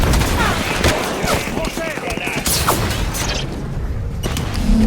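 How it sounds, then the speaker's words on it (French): Enemy soldier fires from a ramp during a Halo 5: Guardians campaign battle, loud bursts of rapid gunfire and mechanical clatter crowding the scene, with voices in the mix. "Il nous tire dessus depuis la rampe."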